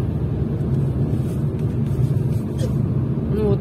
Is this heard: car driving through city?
yes